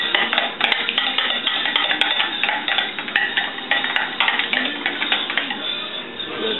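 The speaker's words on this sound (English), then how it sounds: "So you can stir this up a little bit." A spoon knocks and scrapes around a pot while a deer neck roast is stirred, producing repeated clattering metallic clinks in an uneven rhythm, close and fairly loud.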